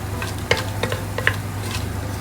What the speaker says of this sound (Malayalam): ഇഞ്ചി വെളുത്തുള്ളിയൊക്കെ ഇട്ട് നല്ല മണമുണ്ട്. അതുപോലെ ഒന്ന് വഴറ്റിയെടുക്കാം.